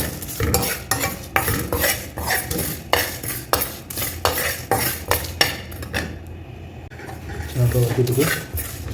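A spoon stirs and scrapes fish curry masala as it roasts in a metal pan, with rhythmic clanks and scrapes about every half second over a light sizzle, then a short quieter pause.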